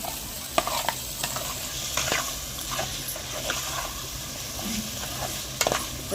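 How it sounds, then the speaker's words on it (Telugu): Pieces of mutton fry in masala for an Andhra-style mutton paya curry, a dense, close sizzle with frequent sharp scrapes of a spoon stirring the pan. "మసాలా మటుకు మంచిగా వేగింది. ముక్కలు వేసుకున్నాము."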